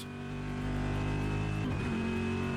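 A steady, droning race car engine at high revs in the racing game Automobilista 2, with a whining tone that shifts pitch briefly, like a gear change, loud and continuous.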